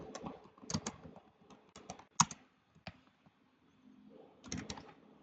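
Keys clatter on a computer keyboard as a listing title is typed in a few quick bursts of close, crisp clicks separated by short pauses.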